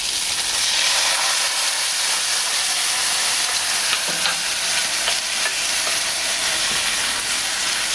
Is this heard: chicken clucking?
no